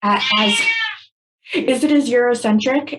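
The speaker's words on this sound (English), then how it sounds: "my cat is saying hello" A pet cat meows twice, loud and close: a long drawn-out meow, a short pause, then a longer wavering, chattering meow.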